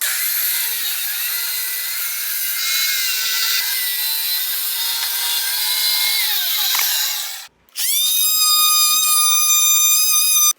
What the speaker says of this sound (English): I'll strike a chalk line here and then cut this wood floor at that line.